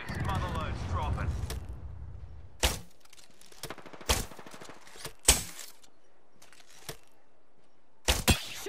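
Gunfire in a shooter video game rings out as sharp isolated shots and short bursts spaced a second or so apart, loud against a quiet background, following a stretch of talking at the start.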